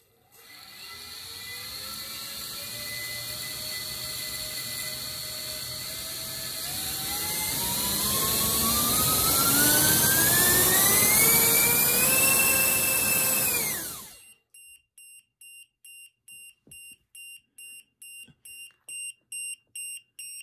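Cinewhoop drone motor with short-duct propellers on a thrust stand, running on a 4S battery, spins up with a loud rising whine that climbs steadily in pitch for about fourteen seconds, then cuts out abruptly and leaves a series of short rhythmic electronic beeps.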